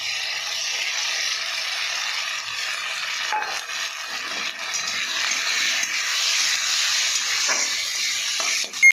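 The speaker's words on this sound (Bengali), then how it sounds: "এই যে মশলা বেটে রেখেছি, আদা রসুন গোলমরিচ জিরা দিয়ে দেবো।" Onions and tomatoes frying in a pan as a ground paste of ginger, garlic, black pepper and cumin goes in, giving a steady, close, loud sizzling hiss that runs throughout without talk.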